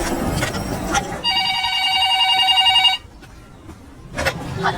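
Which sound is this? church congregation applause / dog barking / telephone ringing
telephone ringing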